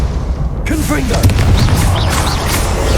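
The Confringo blasting spell in Hogwarts Legacy goes off as a loud booming burst that cuts in suddenly, followed by crackling combat effects and rising chimes in a busy battle scene.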